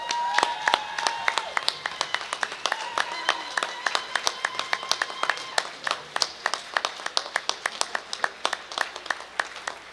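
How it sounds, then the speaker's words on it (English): Scattered applause from an audience at a convention masquerade event, sparse individual claps rather than a dense ovation, moderately distant in a large hall, with faint crowd murmur underneath. "I would like Officer Jim to come up and receive a round of applause from everybody who knows and loves him."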